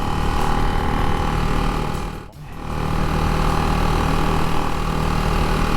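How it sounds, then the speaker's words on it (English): A 2025 Ducati Hypermotard 698 Mono single-cylinder supermotard on the move, its engine a loud, steady, buzzing high-revving drone that dips briefly midway, as during a gear change, then climbs back to full volume. "this is not a single cylinder thumper, this is a single cylinder screamer."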